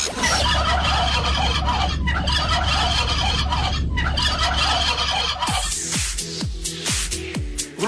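Turkeys gobbling in a series of loud, close, repeated calls over a dense, noisy background, the gobbles growing distinct and rhythmic toward the end, during a Greek turkey-battle segment.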